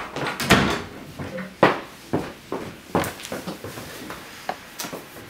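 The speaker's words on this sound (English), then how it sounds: "Can you shut the door behind you?" An office door swung shut, a close wooden thump followed by a series of lighter knocks, latch clicks and shuffling steps in a quiet room.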